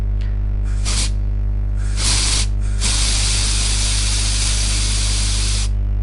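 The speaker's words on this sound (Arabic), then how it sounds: "سبراي مثلا، صوت حد بيرش حاجة" Aerosol spray can hissing in several bursts: two short sprays, a brief third, then one long steady spray of about three seconds, close and loud over a constant low hum.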